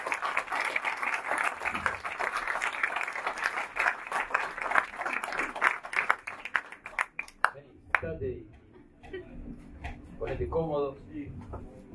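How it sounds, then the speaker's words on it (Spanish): Applause from an audience welcoming a guest on an Argentine talk program, steady clapping for several seconds that thins into scattered claps as people begin talking and moving nearby. "vamos a recibir con un aplauso a Domingo Bresso"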